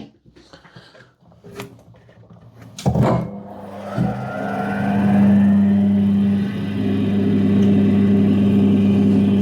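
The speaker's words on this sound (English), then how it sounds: "let's quickly grind this bit up" An opal belemnite fossil is ground on a grinder: after a few clunks and handling knocks, the machine whirs up and settles into a loud, steady hum as the stone is worked, with no talking.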